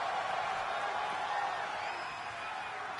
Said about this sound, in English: Crowd is loving it though.